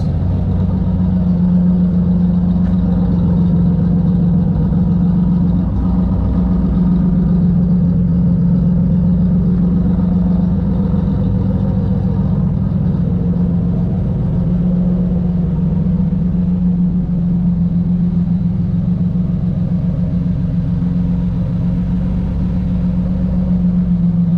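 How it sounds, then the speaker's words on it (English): Nissan 300ZX and Infiniti Q45 engines rumble and idle nearby in a steady, loud drone, with a deep hum that barely changes throughout. "the sounds coming from these cars"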